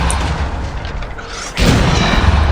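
A Bombarda spell blast in Hogwarts Legacy: a loud, close booming explosion bursts in halfway through, following a softer rumbling buildup, and sustains a heavy low roar to the end.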